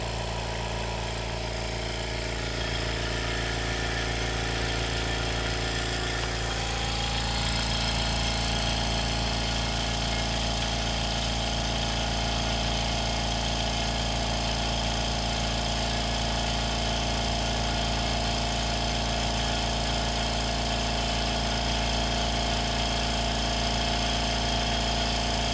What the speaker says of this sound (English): I brought my air compressor out here. I wanted to see if it would pump some air into it